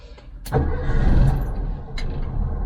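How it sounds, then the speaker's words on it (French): The engine of a 1973 VW Westfalia camper van turns over and catches at about half a second, then idles with a steady low rumble, close and fairly loud. "Je sais pas si vous avez entendu même le moteur démarrer"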